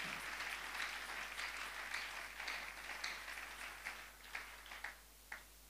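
A church congregation applauds, with dense steady clapping that thins out toward the end into a few separate claps.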